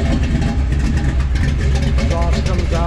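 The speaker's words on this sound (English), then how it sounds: "Got that old school rumble to it." A 1956 Chevrolet 3100 pickup engine idles with a steady, deep old-school rumble, close and continuous, with a voice talking over it.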